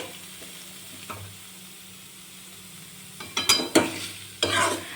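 Paneer stuffing for paratha is stirred in a pan after the gas is turned off. A faint low hum runs under a few soft scrapes, followed by louder clattering spatula strokes near the end. No one speaks.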